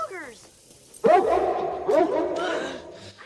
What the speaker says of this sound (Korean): 반려견 카크는 짖게 되는데